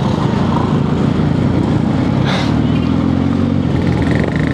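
A Yamaha Aerox scooter engine runs close by in a steady, continuous drone with a low throbbing rumble that stays loud throughout, joined by a brief higher whoosh midway.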